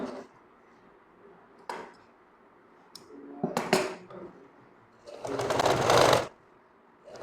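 A sewing machine stitching a pyjama runs in short bursts, with brief clicks between them and a longer, louder run of stitching near the end.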